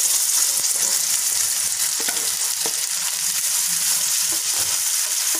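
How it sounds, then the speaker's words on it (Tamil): Ground beetroot sautés in ghee in a pan, giving a loud, dense, unbroken sizzle with occasional soft scrapes of a spoon stirring the paste. "இப்போ இந்த பேன்லேயே ஒரு ஸ்பூன் நெய் ஊற்றி பீட்ரூட்டை வந்து வதக்கிக்கலாம்"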